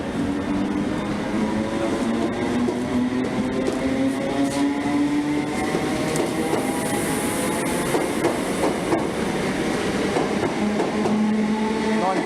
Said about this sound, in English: Train's ready to depart.